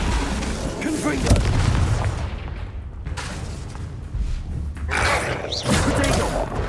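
Confringo explosive spell blast from Hogwarts Legacy gameplay: loud booming impacts and rumbling bursts amid continuous game combat noise, with a voice calling out in the background.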